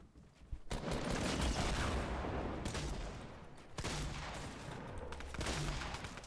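Bursts of rapid gunfire from the video game Fortnite, loud and dense, with sustained volleys separated by brief gaps and several sharp shots near the end.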